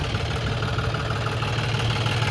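A tractor engine runs at a steady, loud idle on a farm field during ploughing, giving a continuous rumbling drone with slight knocking and vibration and no pauses.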